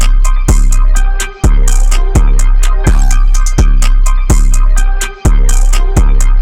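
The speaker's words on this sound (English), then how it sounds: "Now, let me get into the 808s and kicks." Trap beat of booming sustained 808 bass notes and punchy kick drums with crisp hi-hat ticks, a steady looping pattern, loud and up front with no voices.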